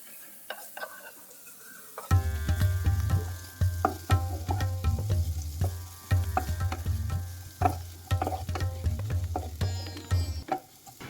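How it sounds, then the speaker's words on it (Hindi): Sliced onions sauté loudly in a pan for a restaurant-style fish roe masala fry, a steady sizzle starting after two seconds with repeated clinks and scrapes of a spoon stirring, close and continuous, with no talking. "अब ऐड करेंगे स्लाइस्ड ऑनियंस और ऑनियंस को सॉफ्ट होने तक हमें इसे सौटे करना है।"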